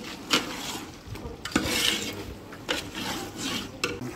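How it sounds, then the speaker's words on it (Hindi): Scraping and stirring in a pot as spices fry for rice, with a few sharp clinks of a spoon, a steady rasping rhythm close by, no voices. "इसको अच्छी तरह 5 से 10 मिनट के लिए भूनेंगे।"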